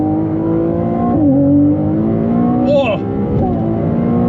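Ferrari accelerating hard on the Autobahn, heard from inside: a loud, rising engine drone that climbs through gear shifts with brief dips in pitch, while a man exclaims over it.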